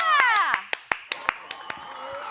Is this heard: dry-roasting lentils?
no